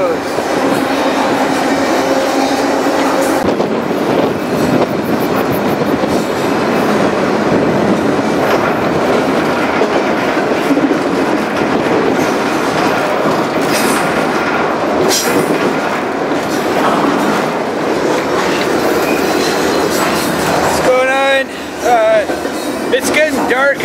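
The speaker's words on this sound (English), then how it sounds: "And the train still ain't to the next town." A freight train on the Highline route between Fargo, North Dakota and Whitefish, Montana rolls steadily through farm country, a loud continuous rumble with rhythmic clickety-clack of rail cars and a brief squeal near the end.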